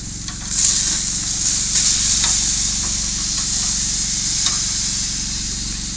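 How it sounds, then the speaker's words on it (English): Steak and peppers fry in a pan on a camp grill at a campground, giving a loud, steady sizzle and hiss that carries on throughout with occasional stirring scrapes. "Making peppers and the steak."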